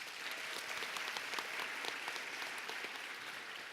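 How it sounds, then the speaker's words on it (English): An audience at an awards ceremony claps steadily in a continuous, moderately distant round of applause with no voices over it. "Please give them a round of applause."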